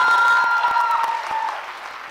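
Audience applause fills a hall at a Dev Anand quiz event at JKK in Jaipur, a steady, fairly loud burst of clapping that tapers slightly over two seconds, with faint tonal sound beneath.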